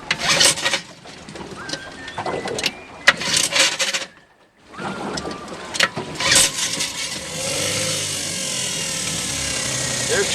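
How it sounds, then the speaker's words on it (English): A 1954 Scott Atwater 7.5 HP outboard motor cranks with a few sputtering bursts and a short pause, then catches and settles into a steady, loud running drone close by. "Now you'll notice this Scott Atwater makes a lot more noise than the"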